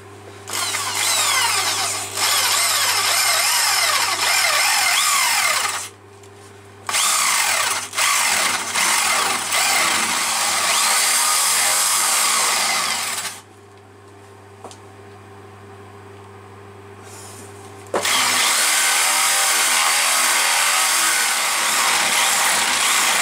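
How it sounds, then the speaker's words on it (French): A power drill bores a 3 cm hole in a wooden tit birdhouse with the lathe axis locked, running loud and steady with a constant whine, stopping briefly twice before starting up again. "maintenant je vais pouvoir percer mon trou de 3 cm et mes trous. Alors je vais percer ici"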